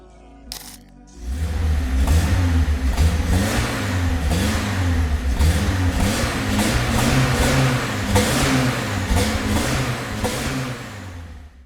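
A turbocharged Lada Niva engine revs hard through a custom-built loud exhaust with 89 mm tips, repeatedly rising and falling in pitch, close and continuous after a brief quiet start.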